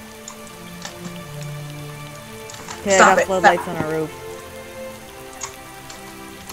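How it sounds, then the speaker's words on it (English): Rain patters softly and steadily in the video game Starbound, a faint continuous hiss under a player talking loudly. "It's raining again."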